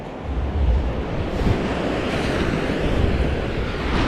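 Small, gentle sea waves washing steadily at the shore on a calm day, a continuous broadband wash with soft surges and some wind buffeting the microphone, no talking.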